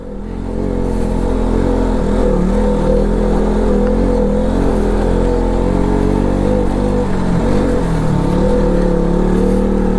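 A car engine revs hard and steadily, loud and close, while climbing a steep off-road mountain track near Kathmandu in low gear, with the vehicle's brakes failing.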